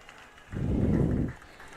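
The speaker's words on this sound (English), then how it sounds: "You get a nice round of applause here from the crowd." Crowd applause at a 10U Cal Ripken youth baseball World Series game, a short burst of clapping that swells for under a second and then drops away, moderately loud against a quiet ballpark background.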